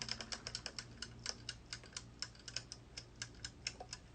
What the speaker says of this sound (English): hopefully you can't hear that ticking too badly